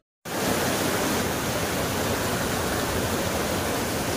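Dudhsagar waterfall in Goa, a dense, loud, unbroken roar of cascading water that starts abruptly and stays constant throughout, no voices.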